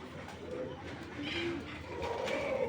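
A racing pigeon coos softly a few times, low throaty notes close by against a quiet background.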